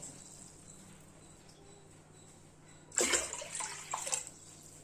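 Water pours into a cooking pot, three cups measured for a ragi koozh recipe in a home kitchen, a short splashing burst after a quiet stretch, fairly faint and close.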